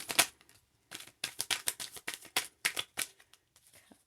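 A deck of tarot cards is shuffled and drawn, giving quick, close, crisp bursts of riffling and flicking separated by brief pauses.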